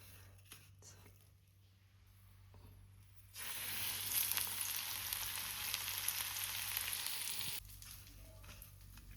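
Bombay duck (bombil) fish frying in a pan, a hissing sizzle that rises suddenly midway and holds steady before cutting off, faint and close with no talking.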